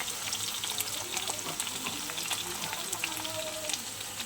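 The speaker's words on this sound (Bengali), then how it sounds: "আমি একটা আলু ভেজে নিচ্ছি।" Potato frying in hot oil with nigella seeds, a dense steady sizzle and crackle close up, with faint background murmur.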